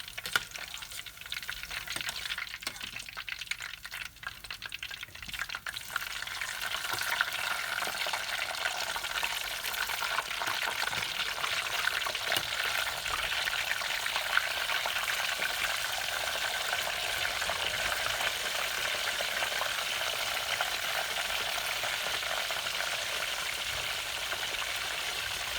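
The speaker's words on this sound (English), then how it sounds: "fry them a little bit until they get brown and cooked" Courgette frying in a pan gives a steady, soft sizzle and crackle throughout, quieter at first and then building into a constant hiss, with no voices.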